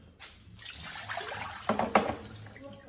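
Water dripping and splashing from the drip tray of a Miele coffee maker, a few uneven spatters and trickles up close, with the loudest splashes near the end.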